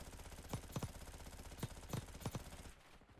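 Several short bursts of PPSh submachine gun fire in Warzone, rapid rattling volleys in quick succession over a steady game background, ending abruptly.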